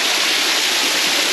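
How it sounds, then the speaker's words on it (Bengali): A waterfall in a cave garden at Cherrapunji, Meghalaya, pours down as a loud, dense, unbroken roar of falling water, close by and alone. "দেখুন আমার পেছনে রয়েছে, কি দারুণ ঝর্ণার জলটা নামছে ওপর থেকে এবং ঠান্ডা জল পড়ছে"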